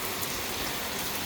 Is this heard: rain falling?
yes